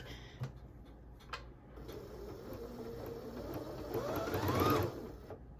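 A Bernette 77 sewing machine runs quietly and steadily, its soft whirring hum building slightly toward the end before stopping, heard close with no talk.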